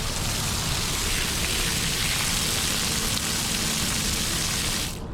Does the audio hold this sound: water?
yes